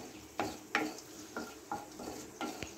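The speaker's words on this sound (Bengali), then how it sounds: "একটা শুকনো লঙ্কা দিচ্ছি, দুটো তেজপাতা দিচ্ছি, ফোড়নটা দিয়ে দিলাম।" A dried red chilli and two bay leaves hit hot oil as a tempering for a vegetarian Bengali pui shak chorchori, giving a soft steady sizzle broken by several sharp clinks of a utensil stirring against the pan, with no talk.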